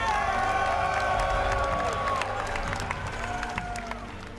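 Arena crowd at a Red Bull Battle Grounds StarCraft event in New York applauds and cheers for the player Bomber, a dense, sustained roar of clapping and whoops that slowly fades.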